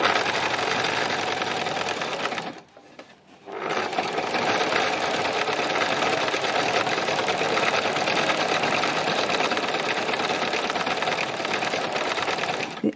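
A sewing machine stitches slowly and carefully through fabric in a steady, continuous whir, pausing briefly partway through before running on, close and loud with no talking.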